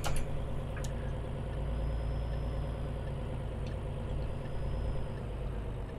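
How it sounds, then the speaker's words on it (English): Heavy Peterbilt 386 truck engine in Euro Truck Simulator 2 running at about 1500 rpm, giving a steady, loud low drone that hums on evenly without revving up or down. "It sounds really like I'm revving it a lot, but I'm not really"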